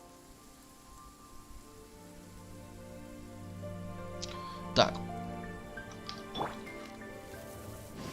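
Steady rain falls in the video game Genshin Impact, a continuous patter with occasional louder drops under soft game music, while someone briefly speaks.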